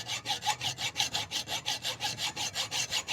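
Hand hacksaw cutting a slot into a steel bolt on a classic MGC gearbox mounting, with brisk, even back-and-forth strokes, about five per second, close up and alone.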